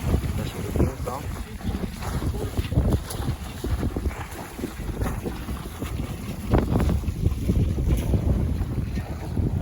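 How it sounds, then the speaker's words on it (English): Stiff breeze roaring across a sailboat on an overnight sail at sea, with continuous loud wind buffeting and rushing water and wave wash underneath. "It's a pretty stiff breeze on here now"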